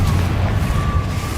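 Confringo explosive spell blast from Hogwarts Legacy, a loud dense burst of low rumbling boom that fills the whole moment and fades only slightly, with no talking.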